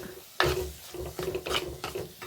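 Chili, coriander and turmeric powders are stirred in a pan for a kari lemon curry, with short scraping strokes and a soft sizzle in a quick, uneven rhythm, close and unaccompanied by talk.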